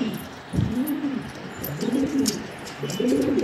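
Male racing homer pigeon of the grizzle type cooing loudly and close, in three repeated rolling coo phrases with short pauses between them, over faint background noise.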